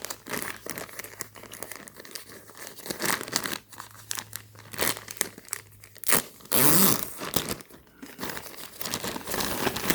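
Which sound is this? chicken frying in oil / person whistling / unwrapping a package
unwrapping a package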